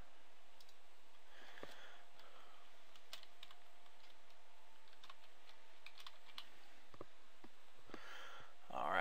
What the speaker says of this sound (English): let's go ahead and type out our text